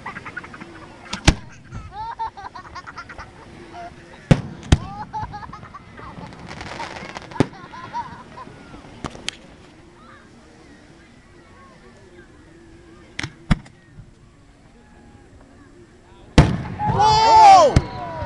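Fireworks over Port Stanley: sharp, loud bangs scattered across the stretch, some in quick pairs, followed near the end by a burst of crackling, with people talking and exclaiming between blasts.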